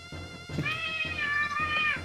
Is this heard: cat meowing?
yes